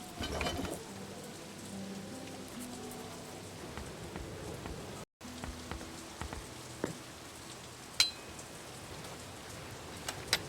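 Rain falls steadily in The Dark Eye: Chains of Satinav, a continuous soft patter on surfaces with a few louder drips and a short break midway, and no voices.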